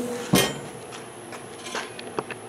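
A pork loin smoker's lid shuts with one sharp metallic clank, then a few faint clinks and light knocks follow in a quiet setting.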